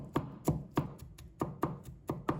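A knife chops crushed garlic cloves into fine mince on a cutting board, eight sharp, evenly spaced thuds in a steady rhythm, close and clear, with no voices.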